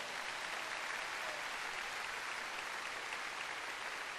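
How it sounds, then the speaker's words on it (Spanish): A church congregation applauds during a sermon, steady dense clapping that fills the space evenly from start to finish with no voices over it. "Dar un aplauso, Señor, por eso."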